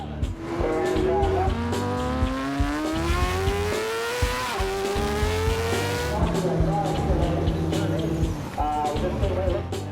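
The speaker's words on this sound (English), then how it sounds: "Clint heads back out to evaluate the Superbike's front-end response." Canadian Superbike Championship superbike on track during a practice session after a tire-pressure increase, its engine loud and close, revving with rising pitch through gear changes and dropping off briefly before climbing again throughout.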